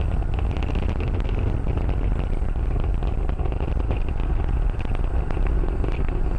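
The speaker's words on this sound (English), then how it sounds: "the first stage is throttled down power on the Merlin engines in preparation for max Q" A SpaceX Falcon 9 first stage climbs on its Merlin engines, throttled down before max Q: a steady, loud, broadband roar with low rumble that holds unbroken throughout, with no voices.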